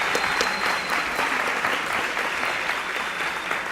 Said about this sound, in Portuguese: Pedimos uma salva de palmas.